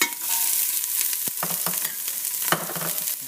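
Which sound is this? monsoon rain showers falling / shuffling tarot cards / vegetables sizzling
vegetables sizzling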